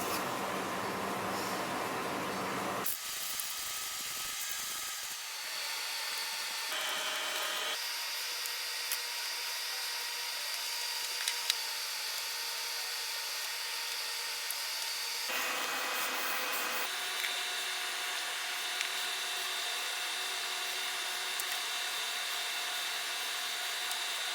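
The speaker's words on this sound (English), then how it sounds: "I want to sand them down just a little bit" Sanding down epoxy on the handles of a restored 1930s Lenox screwdriver makes a continuous, fairly loud whirring grind that shifts pitch several times and runs alone throughout.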